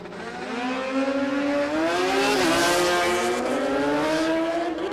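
No-bar drag bikes race down the strip at Warwick Dragway, their engines climbing in a loud, rising wail with shifting pitch, the sound swelling to a peak midway and then carrying on, with no voices.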